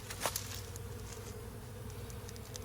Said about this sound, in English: and all of those are the bees.